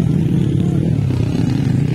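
Underbone four-valve motorcycle engine racing, a loud steady low drone with constant buzzing throughout, close and continuous with no talk.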